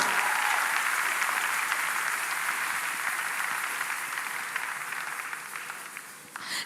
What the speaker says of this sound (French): Est-ce que ça, c'est vraiment des acclamations pour des vainqueurs?